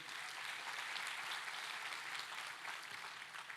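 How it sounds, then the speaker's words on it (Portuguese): A church congregation applauds steadily during a worship service, a dense, continuous wash of clapping from a large crowd that holds at an even level throughout, with no voices standing out. "Você pode aplaudir a palavra de Deus."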